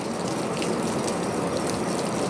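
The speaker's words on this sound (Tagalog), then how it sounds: "yun na nga yung bagsak ng tubig" Water pours and splashes steadily from the drain of an air cooler during maintenance, a close continuous gushing with a faint mechanical rattle and no talking.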